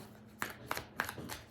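Druid Craft tarot cards being shuffled by hand, giving several soft riffling bursts roughly a third of a second apart, close and quiet with no talking.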